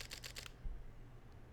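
Fujifilm X-T4 mirrorless camera shutter firing in a quick burst, four or five soft, close clicks in rapid succession, then quiet room noise.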